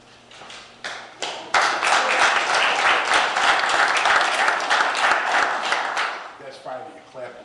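Audience at a Homer Glen board meeting claps for coaches as they are named, with a few scattered claps building into sustained applause that fades near the end. A voice is heard faintly.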